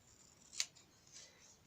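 A single crisp snip of scissors cuts off the corner of a folded paper sheet for a mini Easter basket place card, close and quiet, with a softer paper rustle after it.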